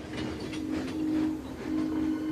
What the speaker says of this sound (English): Thomas shunted all the trucks into one long line, and he set off for the bakery